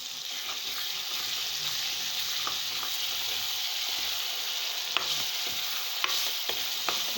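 Ginger garlic paste frying with tomato for chicken curry, a steady loud hiss of oil and occasional scraping clicks of a spoon stirring the pan, close up with no talking.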